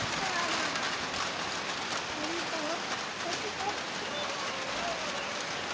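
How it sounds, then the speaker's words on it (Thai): Rain pours in a steady wash of noise, with faint chirps and indistinct sounds scattered underneath. "ฝนตกแล้วพี่น้องเอ้ย"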